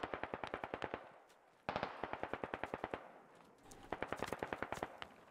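Rapid bursts of automatic gunfire in the shooter game Squad, sharp repeated cracks in several long strings with short pauses between them, loud and close.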